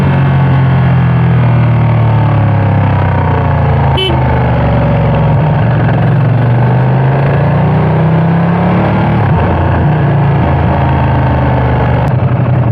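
A Ducati Panigale motorcycle engine runs on the road, a loud, continuous low rumble with a fluctuating drone and wind noise, riding steadily through the whole stretch with a brief click partway in.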